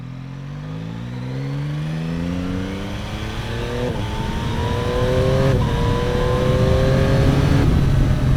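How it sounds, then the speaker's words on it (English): A 2024 Yamaha MT-09 motorcycle engine with an acoustic amplifier intake revs upward through several gear shifts, its pitch climbing repeatedly and growing louder and smoother, close by with no talking. "The higher this engine revs, the smoother it gets."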